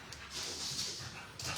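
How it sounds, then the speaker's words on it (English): An energetic pet dog running about makes faint, thin whimpers and hissy panting, heard at a distance under a steady room background. "My dog is running like a maniac."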